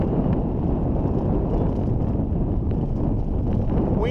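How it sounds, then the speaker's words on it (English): Heavy wind buffets the microphone with a loud, constant low roar while someone is drifting in a boat catfishing along ledges, masking nearly everything else. "Wind is horrible, I apologize. There's absolutely no way to make the audio any better."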